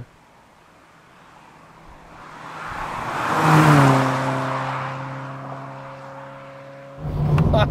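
A 1988 Honda Prelude 2.0i drives through bends at around 50 mph, its engine note swelling to a steady, moderately loud hum with road and wind noise, then easing before a fresh surge.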